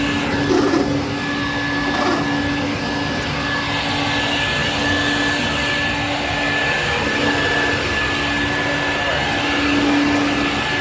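A loud upright water filtration vacuum cleaner runs steadily throughout with a constant whine and rushing airflow, close by, with no talking.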